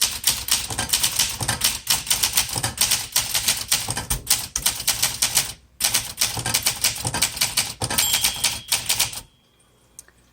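Someone types quickly on a 1965 Olympia SM8 manual typewriter: close, loud, clattering keystrokes come in a fast, uneven rhythm, with a short pause midway, and stop abruptly near the end.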